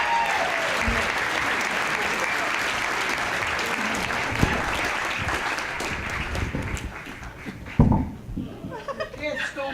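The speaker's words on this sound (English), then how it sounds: "Big round of applause for Mr. Neil Bacon." An audience at a ventriloquist convention bursts into sustained applause, loud and steady for several seconds before thinning out, with a few chuckles and voices mixing in at the end.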